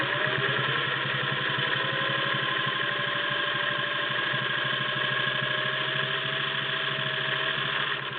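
A vintage Singer 401A Slant-O-Matic sewing a straight stitch gives a steady, fast mechanical whir with a rapid needle clatter, close and unbroken throughout.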